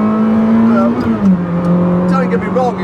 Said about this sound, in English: I find third to second the hardest sort of rev match to do.